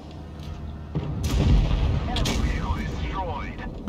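A tank cannon fires in the game World of Tanks Blitz as a heavy boom with a rumbling tail. Game engine noise continues underneath, along with other in-game effects.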